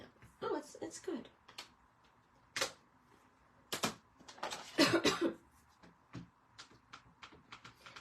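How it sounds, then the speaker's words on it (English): A woman with lingering congestion coughs in a few sharp bursts while making a scrapbook layout with stamps, with brief tapping and crafting clatter around the coughs in a quiet room. "Sorry for coughing."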